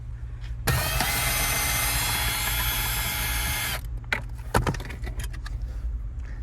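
Power tool spinning off a 10mm bolt from the fuse box of a 2007-2008 Honda Fit, a loud close whir lasting about three seconds, followed by clinks and rattles of the bolt and tool.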